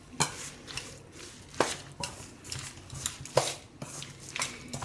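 A spoon mixes oats vegetable pancake batter with yogurt and water in a bowl, giving close, rhythmic scraping and clacking strokes about twice a second, with no talking.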